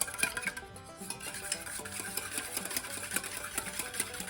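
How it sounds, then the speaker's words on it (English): An egg being beaten by hand in a bowl for an 1899-style recipe, a steady rapid rhythm of whisking taps and scrapes, close and fairly loud, with no talking. "And I'll beat it for a little while."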